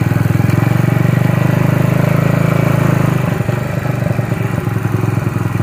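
Motorcycle engine, recently warmed up, runs loud and steady with a rough low throb, then the note shifts and clatters as the bike pulls away, with no talking.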